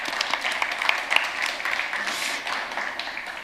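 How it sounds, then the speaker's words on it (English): An audience at a pitch event stage applauds, with moderately loud, fairly even clapping and faint crowd voices mixed in, easing slightly toward the end. "Let's give them a round of applause."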